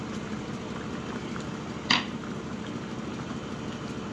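Crab simmering in coconut milk in a pot on the stove, a steady soft bubbling boil with a single brief clink of a utensil partway through.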